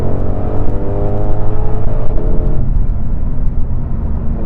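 A 2020 Ford Mustang Shelby GT500 accelerates hard, its engine note climbing in a loud, rising roar with stepped harmonics before easing off into a lower rumble, heard up close with no talking.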